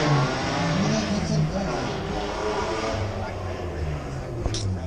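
A car engine revs at a San Diego car meet rev battle, a loud, sustained throaty roar with rising and falling pitch, close by, amid crowd noise.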